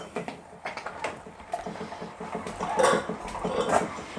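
A hand-cranked food mill pressing cooked organic apples into applesauce, with steady rhythmic clicking and scraping of the mechanism and clinks against a Pyrex pan below, close and moderately loud.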